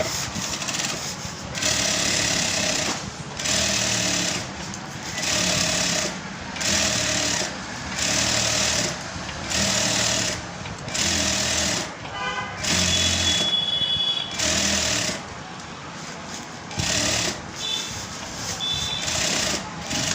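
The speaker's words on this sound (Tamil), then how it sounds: "நம்ம இன்னொரு தையல் பக்கத்தில் அப்படியே போட்டுக்கலாங்க." A sewing machine stitches a seam in repeated close, whirring runs of rapid needle clatter, stopping and starting roughly every second or two throughout, with no talking.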